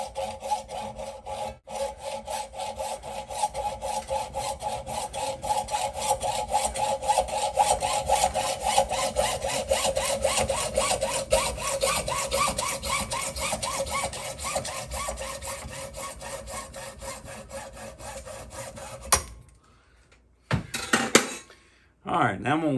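Sawing through a steering part on a 1968 Lincoln Continental during a steering box replacement: steady rhythmic back-and-forth strokes, close and loud for about twenty seconds, then a pause and a few final strokes.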